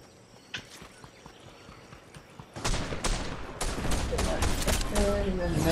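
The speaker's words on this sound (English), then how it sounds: "we got shots" A rapid burst of gunfire in Warzone breaks out midway and continues as dense, loud cracks and rattles. A quieter stretch precedes it, with a couple of faint pops.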